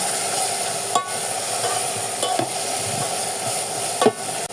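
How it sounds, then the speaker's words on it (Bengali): Onion, green chilli and ginger-garlic paste frying in a pan for egg and potato khichuri, a loud continuous sizzle with a few spatula scrapes and knocks, close up. "আদা রসুন পেস্ট দিয়ে একটু ভেজে নেব"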